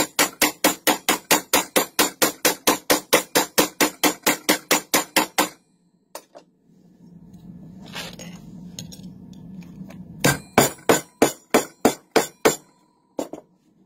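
Rapid, steady hammer blows ring out on metal while texturing a knife handle, in a fast run, then pause during a low rumbling stretch before another quick burst of sharp strikes.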